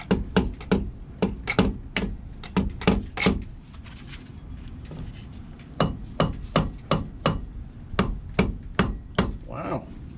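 A hammer taps repeatedly on a stuck intake manifold aboard a Luhrs 28 boat, sharp metallic knocks in quick bursts of several strikes, a pause, then another rapid run of blows.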